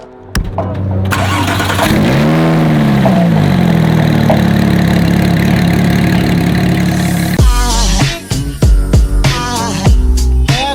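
A 2010 Porsche GT3 engine cranks and catches, then holds a loud, close, high idle that settles before sharp throttle blips and revs, with a voice briefly heard near the end.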